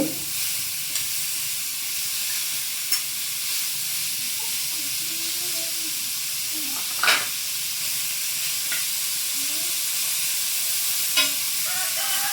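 Julienned carrots sautéing in a pan for chicken sukka, a soft continuous sizzle and hiss with a few faint scrapes and clinks of a spatula spread across the stretch.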